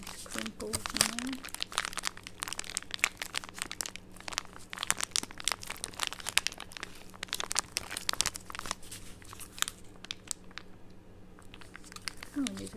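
Crinkly plastic face mask packets being handled up close, a dense run of sharp rustles and crackles, with soft talking in between.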